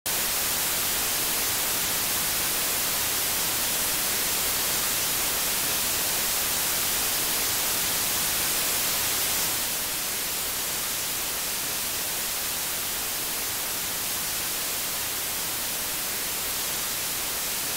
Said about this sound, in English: And here it is on some white noise.